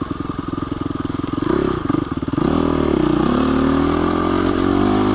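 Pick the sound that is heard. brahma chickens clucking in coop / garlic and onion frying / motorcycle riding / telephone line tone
motorcycle riding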